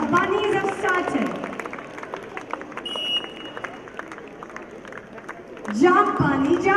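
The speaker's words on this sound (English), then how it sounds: "Let the cheering start." A crowd cheers and claps at a pre-KG to Class II school sports day. The middle is a scattered, moderate din of applause and children's voices, with an announcer talking at the start and end.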